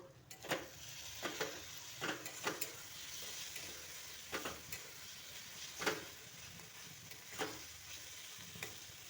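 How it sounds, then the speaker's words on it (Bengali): Ginger, garlic and green chilli paste sautéing for a mushroom dish, a low continuous sizzle punctuated by sharp spatula scrapes and taps against the pan at irregular intervals, close but fairly quiet. "খুব ভালো করে কষিয়ে নেব যেন কাঁচা গন্ধটা চলে যায়, আদা রসুন কাঁচা লঙ্কা এগুলোর।"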